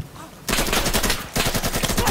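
Rapid automatic gunfire from the combat video game Insurgency, dense bursts of loud shots starting abruptly after a quiet half-second, pausing briefly, then resuming in fast rattling volleys.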